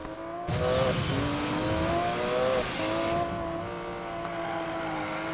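Porsche race cars in the Need for Speed Payback video game, engines droning loud and steady with rising revs and gear shifts, several cars running close together throughout.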